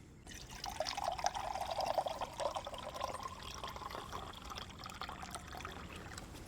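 Water is poured from a container into drinking glasses at home, a steady close trickle and splash lasting several seconds and softening toward the end, with no voices.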